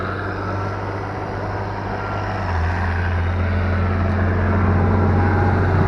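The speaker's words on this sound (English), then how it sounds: "there's a tractor coming up here" A tractor climbs a steep country hill, a steady low engine drone that holds close and loud and swells slightly toward the end, with no voices.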